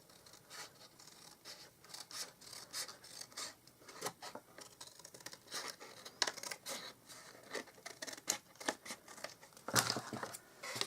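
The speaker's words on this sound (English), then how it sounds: "I'm going to cut some of this off because I've done it too long" Scissors cut through card stock while making a fun fold card, a run of close crisp snips and crinkly paper rustling, fairly quiet and without talking.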